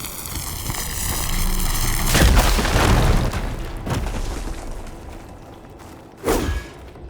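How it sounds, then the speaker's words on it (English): A fire gleam blows up in Horizon Forbidden West, a deep booming explosion with a whooshing roar that lingers and fades, followed by a second sharp thump moments later. "Should be able to blow up that fire gleam."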